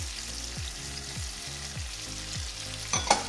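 Sausages fry in a pan with tomatoes and onion, a close sizzle broken by rhythmic scraping strokes about every half second, then a brief clatter at the end.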